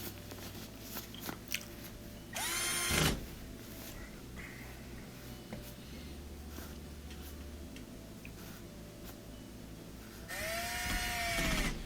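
Phillips head screws are driven into an LG washer frame with a power driver, giving two short whirring bursts with rising pitch at the start and end, amid quiet handling clicks and taps close by.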